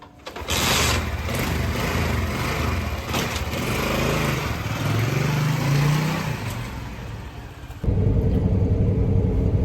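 A motorcycle on the road during a ride to Umar Hospital, a steady loud engine drone with wind rush and road noise that swells again near the end.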